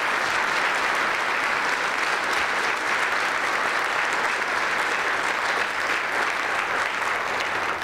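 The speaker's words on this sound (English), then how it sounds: "and give a round of applause." Sustained applause from a large audience at a spring general assembly, dense and steady throughout with no pauses or voices rising above it.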